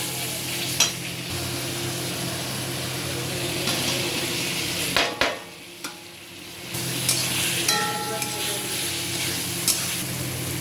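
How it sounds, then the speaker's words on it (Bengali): Fried potatoes tipped into a sizzling spice masala and stirred in a pan, cooking for a boroli fish curry with potato and eggplant; a steady, close frying hiss with scraping stir strokes and a few sharp clinks. "মশলা কষানো হয়ে গেছে, এখন আমি ভেজে রাখা আলুগুলো দিয়ে দেবো।"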